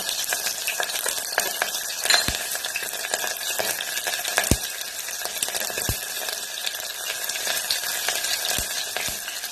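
Green chilies slit lengthwise frying in hot oil in a pan alongside cloves for green tomato biryani, giving a steady close hiss and crackle with a few sharp pops and stirring clicks throughout.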